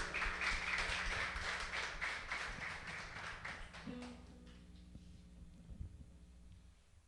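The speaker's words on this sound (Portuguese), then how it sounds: "Palmas para Jesus, irmãos." A church congregation claps in rhythm, a run of brisk, regular hand claps that fades out partway through while faint music lingers in the background.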